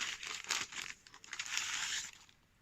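A paper envelope holding a letter crinkles and rustles close up in quiet, steady handling noises with brief louder crackles and no voices.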